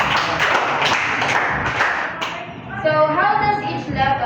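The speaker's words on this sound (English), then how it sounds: "So everybody give 5 claps for our lesson." A classroom of students claps together for the lesson, a short burst of sharp, close claps that quickly gives way to a teacher's speaking voice.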